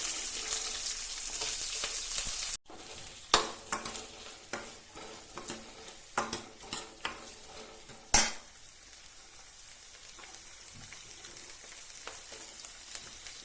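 Onion dropped into hot tempering with fenugreek seeds in a pan, a loud initial hiss easing into steady frying sizzle, punctuated by sharp spoon clinks and stirring scrapes against the vessel.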